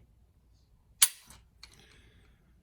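A Timney Alpha trigger on a Glock pistol is pulled, giving one sharp, crisp click up close, followed by a fainter second click a moment later, in an otherwise quiet room.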